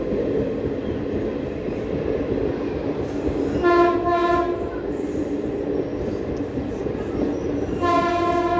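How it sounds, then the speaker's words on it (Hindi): Amritsar–Delhi Vande Bharat Express passing close by on an Indian railway line near Delhi Azadpur, a steady loud rumble of wheels on rails with two long multi-tone horn blasts, one midway and another near the end. "सामने दोस्तों अमृतसर दिल्ली जंक्शन वंदे भारत एक्सप्रेस"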